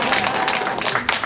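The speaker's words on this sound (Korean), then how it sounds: "다시 한번 박수 한번 하겠습니다." Brief burst of church congregation applause during an Easter service, dense steady clapping filling the whole moment, loud and close.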